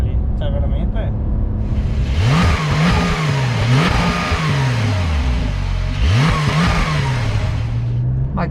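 A Porsche 911 Carrera 4 (992 generation, 385 hp) engine revs and accelerates in two strong, rising surges, loud and continuous, with a person talking over it.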